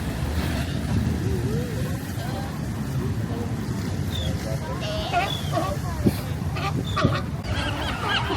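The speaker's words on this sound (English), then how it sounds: "their seagulls are going nuts" Seagulls calling excitedly by the sea over food a sea lion has vomited up, a flock of overlapping squawks and cries amid steady crowd chatter and shoreline noise, with a few sharper calls standing out.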